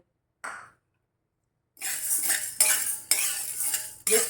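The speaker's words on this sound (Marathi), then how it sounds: "याच कढईमध्ये आपण हरभऱ्याची डाळ भाजून घेऊया" A metal spoon scrapes and clinks against a pan while dry-roasting chana dal, in short bursts of stirring separated by a brief silence, with no talking.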